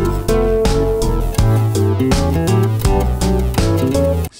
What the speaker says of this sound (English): I selected a different piano for this one.